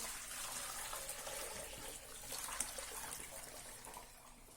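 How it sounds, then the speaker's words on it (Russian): A frying pan is rinsed under warm water from a tap, making a quiet, steady splashing trickle that runs throughout. "Затем промою ее теплой водой."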